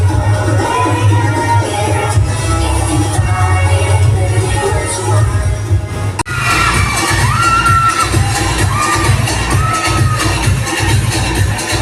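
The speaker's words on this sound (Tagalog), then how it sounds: "Sigawan na agad" A crowd of children and adults shouts and cheers loudly and continuously as a school program begins, a dense roar of voices with excited whoops rising over it.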